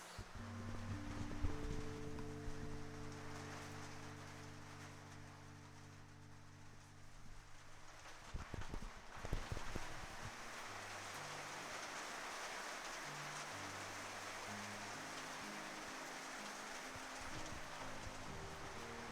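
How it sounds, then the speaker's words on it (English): Rain falls on a shed roof in a steady, loud patter that swells into a heavy drumming downpour, with music playing underneath at first. "That's rain."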